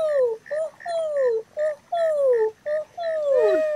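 Children's voices imitate an owl's hoot in a German Halloween letter game, a series of drawn-out falling hoo calls repeated in a steady rhythm, close and clear with short gaps between.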